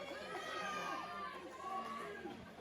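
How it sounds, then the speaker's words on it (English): At an independent wrestling show, the crowd tries to rally behind a wrestler, a faint, distant wash of mixed shouts, chatter and scattered cheers rising and falling without a single clear ovation. "The crowd trying to fire back up for Drake."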